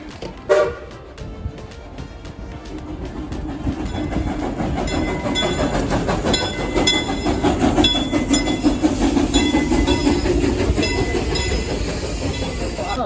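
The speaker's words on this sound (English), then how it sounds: "I think I'm gonna go ride the train" A small amusement park train at Silver Dollar City rumbles along with rhythmic clacking wheels and a short horn toot near the start, a steady, moderately loud ride with no talking.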